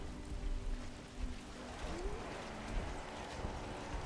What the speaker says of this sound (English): And Isengard counters with rain.